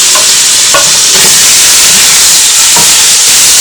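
Lamb pieces dropped into hot oil in a pan for a coconut curry, a loud, steady sizzle and hiss with a few brief stirring clacks, no voices.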